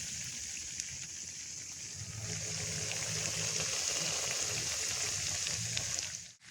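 Pakoras frying in hot oil over a smoky village wood fire, a steady close sizzle holding for several seconds with no voices.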